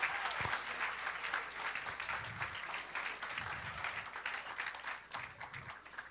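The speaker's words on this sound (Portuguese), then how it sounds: "Dá uma salva de palmas ao Senhor." Sustained applause from a church congregation fills the space, steady and fairly loud throughout, with no talk over it.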